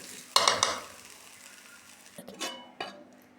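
Spoon scrapes and stirs a fish and rice mixture in a frying pan, a few distinct clinks and scrapes with soft sizzling between, close and fairly quiet.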